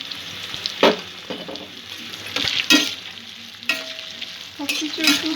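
Chopped garlic fries over medium heat in a pan with other ingredients for a spicy prawn Manchurian, a soft steady sizzle broken by sharp scraping stirs of a spatula, no voices.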